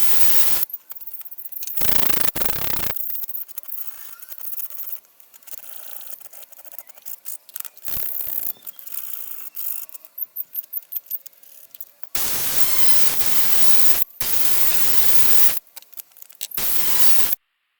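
Welding on windscreen wiper mod parts sputters and crackles in harsh bursts, with loud sustained stretches broken by short pauses and rapid popping pulses.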